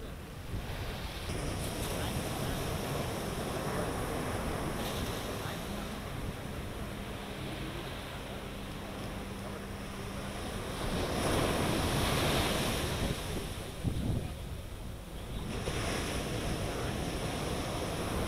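Sea waves at Marina beach, Chennai, wash in steadily with wind rumbling across the microphone, the surf swelling louder midway before easing back into a constant roar.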